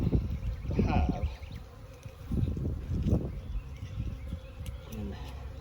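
A ground swarm of honey bees keeps up a steady, dense buzzing close by, while someone talks over it in spurts.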